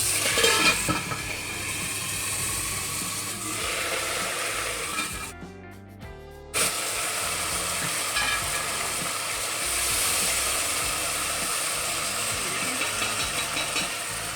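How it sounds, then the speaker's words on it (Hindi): Browned onions sizzle in a pan after water is added, giving a steady loud hiss and crackle with a brief quieter dip midway, close up and without talking. "इसमें हम थोड़ा सा पानी डाल के इसको ढकेंगे।"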